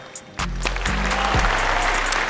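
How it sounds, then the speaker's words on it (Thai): A studio audience at a televised rap competition show applauds loudly and close, the clapping rising sharply and holding steady, mixed with a few cheers. "ปรบมือกับทับชับด้วยครับ"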